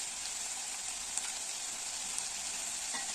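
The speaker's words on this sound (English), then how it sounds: "And then I'll just continue stirring." Goat meat frying in a pan with salt, a steady close hiss and sizzle of hot fat with faint occasional taps of stirring.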